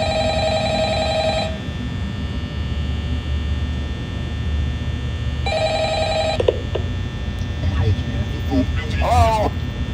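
A telephone rings in the Five Nights at Freddy's video game, two bursts of electronic ringing separated by a pause, over a constant electrical hum with a person talking in between.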